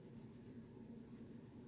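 Black crayon rubbing across paper in a quiet room, a soft continuous scratchy scrape heard close up with no talking.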